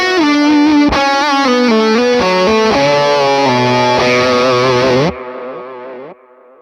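Electric guitar lead played through a Morgan amp plugin with warm delays, a distorted singing melody over a trailing cloud of repeats that rings out and fades after the playing stops.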